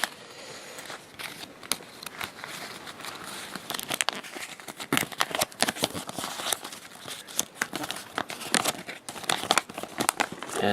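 A small paper Monster Jam poster is drawn out of a toy box and unfolded up close, with steady crinkling and crackling and sharp rustles along the way, and no voices over it.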